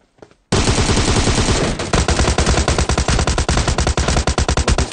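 Automatic rifle fire from an AKG in a squad battle-royale video game, sprayed in loud, rapid continuous bursts for several seconds after a brief quiet opening, with dense repeated shot transients throughout.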